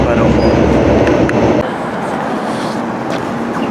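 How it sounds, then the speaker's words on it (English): Onboard a Sheffield tram, tram 125 on the yellow route, a loud rumbling roll that drops to a softer steady hum partway through as the car slows, with faint squeals. "here I'm on board tram 125"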